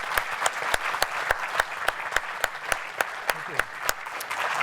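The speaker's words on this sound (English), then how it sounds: "how about a round of applause for our speakers this evening?" Audience applause for the evening's speakers at a public lecture on imaging exoplanets, with steady clapping carrying on throughout and a few sharper, distinct claps standing out above the general patter at moderate loudness.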